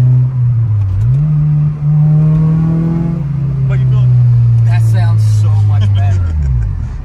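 A Honda S2000 engine revs loudly and close. It builds to a sustained high-rpm drone for several seconds, then drops away, with voices briefly audible over it.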